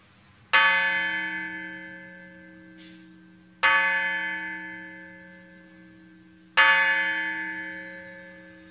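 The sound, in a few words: peace bell ringing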